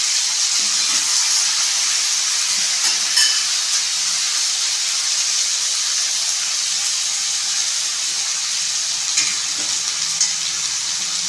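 Brinjal and drumstick pieces fry in oil for a spicy tamarind kara kuzhambu, giving a steady, loud sizzle that runs throughout with a few faint scraping stirs.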